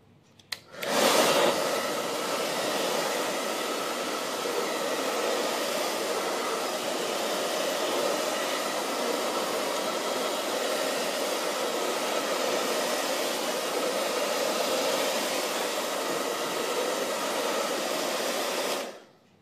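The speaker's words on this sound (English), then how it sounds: "Heat tool is for excessive heat when your colors will take a real long time to dry." A handheld heat tool blows hot air to dry paint on a decoupage key holder and letter box, a steady, loud whooshing roar that switches on near the start and runs unbroken for about eighteen seconds before cutting off.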